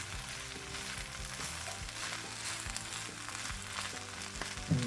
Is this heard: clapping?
no